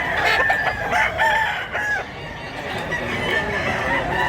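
A rooster crows loudly nearby, one long call with a few clucks around it, over faint outdoor background noise.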